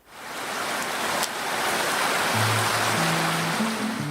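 Water flows steadily in Sun Creek, a broad continuous rushing wash heard close, with a soft low tonal sound entering near the end.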